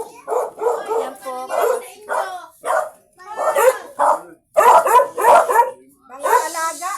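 Pet dogs bark in a close, loud series of short yaps and yips in uneven bursts, with brief pauses between the volleys.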